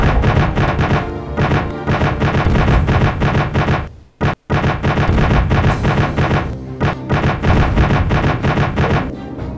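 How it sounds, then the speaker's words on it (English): Anti-aircraft guns firing on an armed junk in the naval combat game Command: Modern Air Naval Operations, a loud, dense, rapid barrage of gunfire that breaks off briefly midway and then resumes. "They're firing their anti-aircraft guns on the armed junk."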